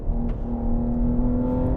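A 1000hp BMW G80 M3 on a test track, heard as a steady, droning engine note with a constant low hum and whir, holding at an even level with no clear rise or pass-by.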